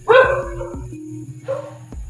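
Dogs bark in short sharp yelps, a loud burst followed by a softer second bark, over a steady background hum.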